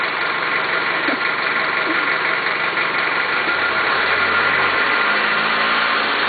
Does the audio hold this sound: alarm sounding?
no